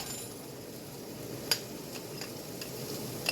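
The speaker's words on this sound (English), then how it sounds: "So, butter's melted and oil's heated up. We're going to add this now, our onion." Onion dropped into melted butter and hot oil in a pan, giving a low steady sizzle with a few brief clinks of a utensil, fairly quiet and close, with no talking.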